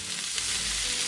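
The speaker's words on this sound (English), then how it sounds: "to this cast iron pan, I'm going to add about a half a cup of beef broth" Beef broth poured into a hot cast iron pan hisses in a dense, steady sizzle that holds at a constant loudness for about a second, close up, with no voices.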